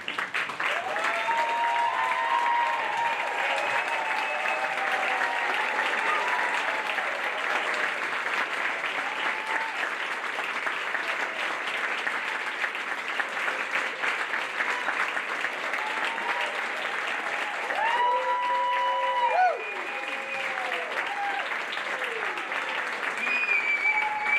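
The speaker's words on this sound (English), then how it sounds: "Please join me in giving them an ovation." Sustained, dense ovation applause from a ceremony audience at a spring 2023 nursing-style cohort pinning ceremony, steady and loud for the whole stretch with a few faint whistles or voices mixed into the crowd.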